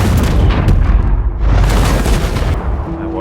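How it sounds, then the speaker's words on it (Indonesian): Explosion at a German fuel depot rendered as a sound effect: a loud, dense rumbling blast with crackling bursts that swells again midway and rolls on for several seconds, no voices. "ledakan pun terjadi pada depot bahan bakar Jerman"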